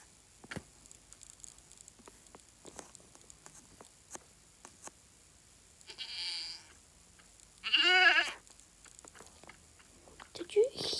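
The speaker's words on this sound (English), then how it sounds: "So what we heard there was a screaming goat." A Minecraft screaming goat: a goat-like scream rises sharply and breaks off, following a shorter bleating cry, over quiet clicks and faint background noise.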